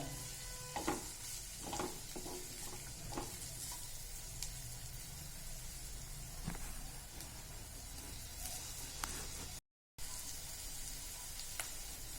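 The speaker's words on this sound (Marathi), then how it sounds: "या भाज्या पाच मिनटं आपण जरा फ्राय करून घेऊया" Cabbage and other vegetables frying in a pan give a soft, steady sizzle with scattered stirring scrapes and clicks, quiet throughout with one brief dropout near the end.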